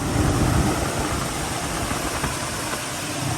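The engine of a Chevrolet Monte Carlo SS idles in a steady, low rumble after a fuel check valve is fitted, close and even for the whole few seconds.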